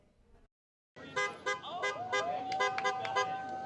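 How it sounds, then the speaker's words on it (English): Car horns honk in a series of short toots and longer blasts, several vehicles sounding together, fairly close, after a brief quiet moment. "Cars lined 1 Tempe Street today as people honked and cheered"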